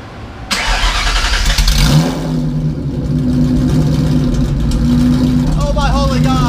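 Ford Mustang Foxbody with a swapped Coyote V8 fires up and revs hard, a loud, close, sustained engine roar filling the whole stretch, with people talking and exclaiming over it.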